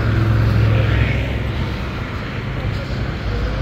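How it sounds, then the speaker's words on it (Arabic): An airplane takes off from Melilla airport, its engine roar loud and steady, easing slightly after the first second and heard from nearby outdoors alongside faint ambient noise. "راه هي الطيارة."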